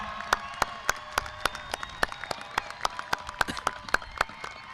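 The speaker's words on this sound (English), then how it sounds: "Let's give these students a round of applause." An audience at a high school graduation ceremony claps for standing students, with sharp, distinct claps ringing out in a quick, uneven patter rather than a dense roar.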